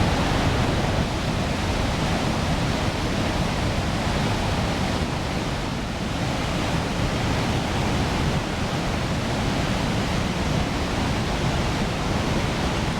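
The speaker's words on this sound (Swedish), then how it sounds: "Men det var helt magiskt fantastiskt att se den här vattenfallen." Victoria Falls roars as a steady, dense wash of broadband rushing water, unbroken and loud for the whole stretch with no voices.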